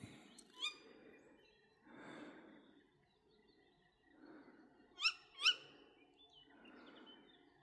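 Calls of a small owl, likely one of a pair, ring out in the open, with several soft hoots and two sharp, high, chirping cries near the end, distinct against quiet surroundings.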